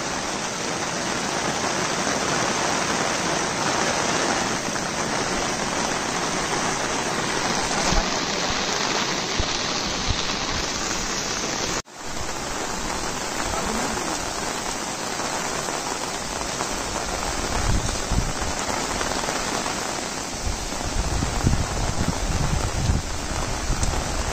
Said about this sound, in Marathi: कोकणातला तुफानी पाऊस.